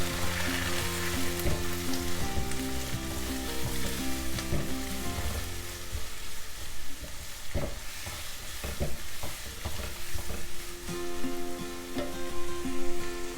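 Onions and curry leaves sautéing in hot oil, a loud steady close sizzle with occasional stirring clatters in the pan, no voices.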